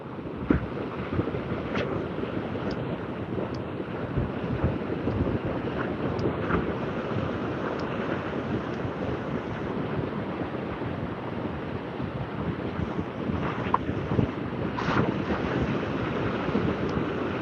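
A boat works through foamy surf near a shallow sandbank gully, with steady wash of waves and heavy wind buffeting the microphone, a continuous close roar with occasional splashes.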